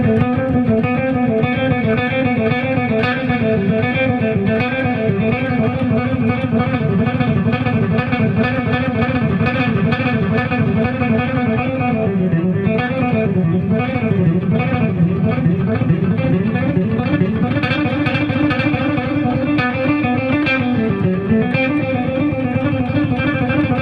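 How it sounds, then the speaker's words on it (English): Fragments of 16th-note electric guitar exercises are strung together in a long, continuous, loud run of fast picked notes with shifting pitch contours, played alone without talking. "Try combining some of these exercises randomly and use your imagination."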